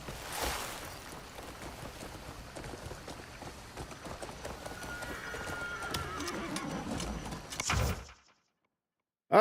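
Hooves clip-clop in a rapid galloping rhythm with a horse whinnying during a horse race in the video game Crimson Desert, steady and fairly close, then cutting to silence near the end.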